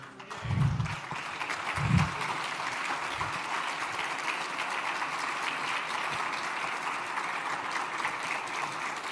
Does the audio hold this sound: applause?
yes